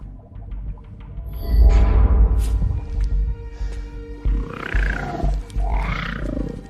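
A dragon roars from somewhere below, a deep, rumbling, growling roar that swells and breaks into rough bursts, loud and sustained.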